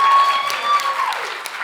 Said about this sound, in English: Can we get another round of applause for Julie Pace,